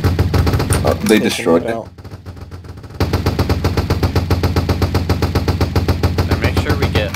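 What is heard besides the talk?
gunfire in Roblox video game shooting a bridge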